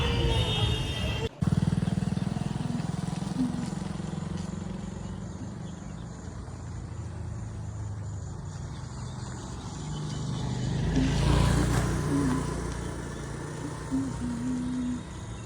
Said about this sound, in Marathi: इथून गाड्यांचा खूप आवाज येतो आहे